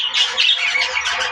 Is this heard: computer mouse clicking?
no